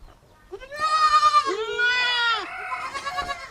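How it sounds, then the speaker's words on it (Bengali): Female goats on a farm bleat loudly and close by, several long wavering cries in succession with a quieter call trailing at the end. "সবগুলো হচ্ছে মেয়ে ছাগল"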